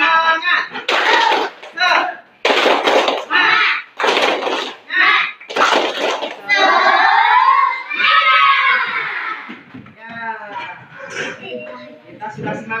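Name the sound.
schoolchildren doing a rhythmic spirit clap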